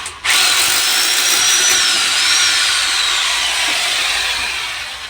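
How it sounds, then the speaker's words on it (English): Up close, a cordless drill whines loudly and steadily for about five seconds, driving a screw into a UPVC door frame during a door fitting, with no speech. "your cordless, screw that in place, alright."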